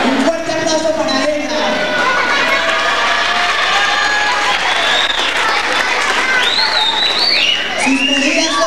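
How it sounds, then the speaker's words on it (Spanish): Audience applause and cheering at a 2001 cultural night show, a dense, sustained clapping crowd with shouts and rising whistle-like cheers, steady and loud throughout. "¡Fuerte aplauso, por favor!"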